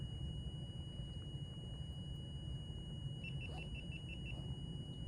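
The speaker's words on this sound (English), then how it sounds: "What just beeped? The GoPro just shut off." A GoPro camera gives a short series of faint, evenly spaced beeps as it shuts off, over a steady low rumble of background noise.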